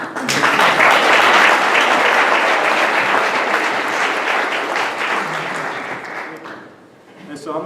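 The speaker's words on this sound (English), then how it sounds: "We can give them a round of applause." Loud, sustained applause from a luncheon audience welcoming panelists onto the stage, a dense wash of clapping that holds for around six seconds, then thins and swells briefly again.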